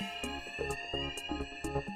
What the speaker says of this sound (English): We could hear the fire alarm.